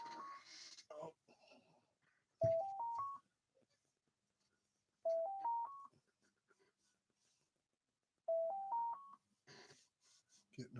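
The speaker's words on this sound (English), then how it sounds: "Getting a phone call." A phone's incoming-call tone repeats three times, each a short rising run of four electronic notes separated by pauses, with someone talking softly in between.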